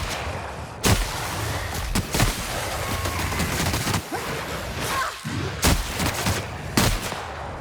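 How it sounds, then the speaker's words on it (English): Shotgun blasts in The Outer Worlds, five or six loud, punchy single shots spaced a second or so apart over a constant backdrop of combat noise. "Man, I really dig the shotgun."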